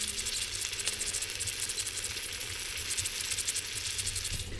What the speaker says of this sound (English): Let's see if we can get a little sound of that sizzle.